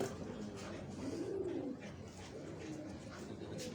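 A Tali pigeon cooing on a Karachi rooftop, soft low repeated coos close by over a faint background hum, with no one talking.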